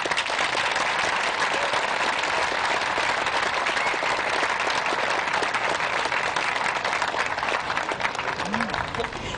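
An audience at a Danbury Live show applauds the cast of I Love a Piano, dense and loud clapping that fills the space continuously, with faint voices under it.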